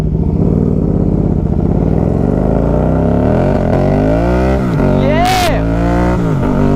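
Can-Am side-by-side with a manual gearbox and a very loud exhaust, engine droning and revving up and down close by, loud and sustained throughout with a brief shout over it.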